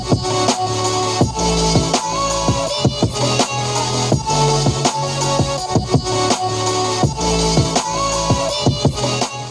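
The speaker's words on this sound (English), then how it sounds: "What you're hearing right now is audio from one Denon 150 NV and one only." Music plays through a single Denon Home 150 smart speaker, with a steady rhythmic beat, sharp percussive hits and full bass, loud and continuous without any talking.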